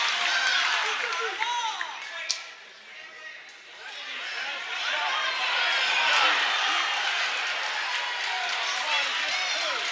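Home crowd at a high school basketball game between Emporia High and Great Bend, a steady roar of cheering and chatter with a brief lull before swelling again, with commentary over it.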